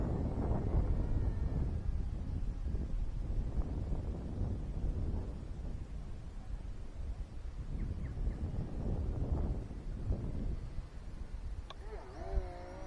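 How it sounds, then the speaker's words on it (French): Steady wind buffets the microphone outdoors during a flight of an XK X520 flying-wing drone, a continuous low rumbling roar that swells and dips for the whole stretch, with a faint motor whine surfacing near the end. "Il y a trop de vent, ça va pas être faisable."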